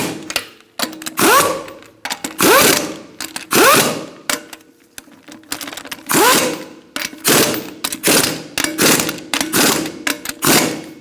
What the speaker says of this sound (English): We're going to torque our lug nuts to 80 foot-pounds.